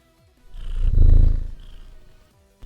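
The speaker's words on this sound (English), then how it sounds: "At the happy cat noises." A cat purring close up, a low rumbling swell that builds, peaks and fades over a couple of seconds, with faint background sounds and no talking.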